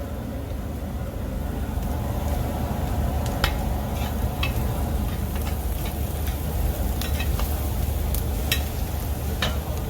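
Onions fry steadily with turmeric in a pan in a Calicut restaurant kitchen, giving a constant dense sizzle with a few faint clinks of a utensil and no talk.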